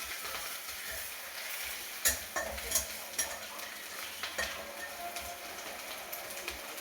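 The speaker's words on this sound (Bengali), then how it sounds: "আর এইটাকে একটু ড্রাই ফ্রাই করে নেবো।" Ginger dry frying in a pan while being stirred, with a soft steady sizzle broken by scraping clacks of the spoon against the pan, close up and with no talking.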